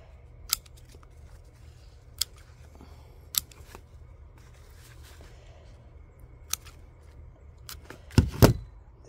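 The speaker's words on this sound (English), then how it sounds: "maybe cut it here about 10 inches and then left one leaf" Scissors clip a flower stem in a few sharp, isolated snips spread across a quiet background, followed by a louder cluster of crunching cuts close by at the end.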